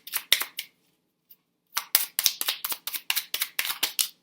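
Tarot cards being handled and drawn from a deck, a series of crisp, sharp flicks and snaps: a few quick ones, a short pause, then a dense rapid run of close, dry card sounds with no voice.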